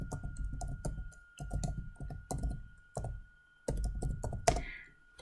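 Someone types a web address on a computer keyboard in short bursts of quick, close key taps, with brief pauses between groups and a final louder key strike.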